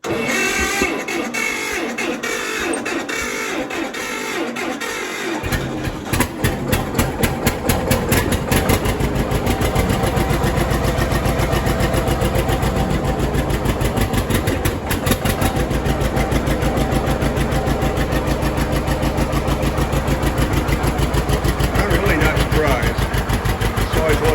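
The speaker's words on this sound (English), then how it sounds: "Set the throttle, pull the choke, turn the switch on, and step on the foot starter pedal." A small engine is started with a foot starter pedal after setting the throttle, pulling the choke and switching it on; it catches after a few seconds and then idles steadily and loudly with a rapid even chug.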